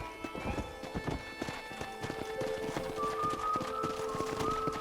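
Steady clip-clopping of horse hooves at a trotting rhythm in Red Dead Redemption, close and clear, with a sustained tone and occasional whinny-like sounds over a game soundtrack.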